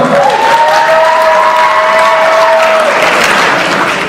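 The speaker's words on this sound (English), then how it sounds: "let's give another round of applause to Mark D'Alessio." Loud, sustained audience applause fills a high school science and technology fair awards ceremony, with a brief tonal whine from the sound system partway through.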